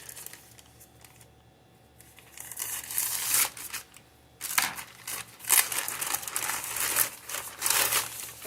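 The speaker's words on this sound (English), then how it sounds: "I'm just gonna use scissors at this point." Scissors cut open a plastic mailing envelope in a series of crinkling, snipping bursts, close and moderately loud, with short pauses between cuts.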